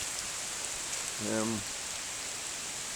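Steady rain hisses evenly over a flooded walking path in Lamlash on the Isle of Arran, a constant wash of falling drops, briefly broken by a short voiced sound in the middle.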